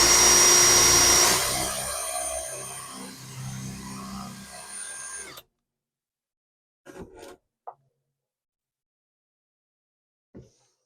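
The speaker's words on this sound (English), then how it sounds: "So I'm going to push it against the wood and then drill through it." A power drill fitted with a dust collector whines loudly as it bores through wood for about five seconds, then cuts off, leaving near silence with a few brief clicks and handling noises.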